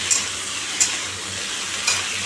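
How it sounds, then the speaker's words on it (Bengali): Something frying and sizzling steadily in a pan in a home kitchen, probably fish, with a few short clinks from stirring, close by and with no talk. "তা আমি আগে এইটা ভেজে নিই"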